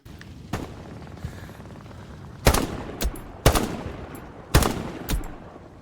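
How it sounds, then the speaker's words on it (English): Three loud gunshots ring out a second apart, each followed by a quieter echoing crack, with faint distant shots and game ambience underneath. "you can hear a gunfire"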